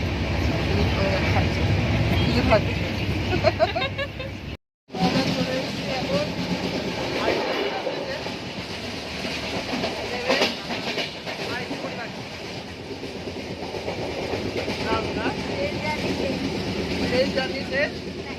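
The Saraighat Express train from Howrah runs along the track, heard from on board as a steady rumbling roar with faint rhythmic clatter and a brief dropout near the start.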